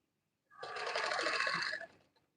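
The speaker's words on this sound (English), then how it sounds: "So I'll continue sewing." A sewing machine stitches satin fabric in one short, steady burst lasting about a second and a half, then stops; close and fairly quiet, with no talking.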